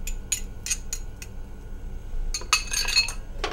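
A spoon stirs baked beans with pork fat in a pot on a stovetop, giving a few light metallic clinks and scrapes against the pot, spaced out at first and then a quicker cluster near the end.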